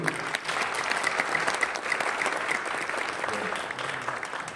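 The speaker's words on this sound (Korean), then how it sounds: "자, 박수." Congregation at a pastor's lecture breaking into dense, even applause that holds steady from start to finish, moderately close and filling the room.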